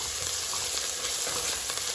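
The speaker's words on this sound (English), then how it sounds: "green chili into this and saute till the raw smell goes off." Green chili and garlic paste sauté in a hot pan, giving a steady, close crackling sizzle with a faint stirring scrape throughout.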